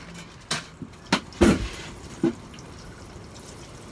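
Freshly sown seed trays are watered in March, with water soaking down through the compost into a tray beneath. Several short, separate splashes and drips land at irregular intervals over a quiet background, fairly close, with no talking.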